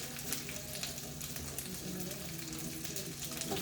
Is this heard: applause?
no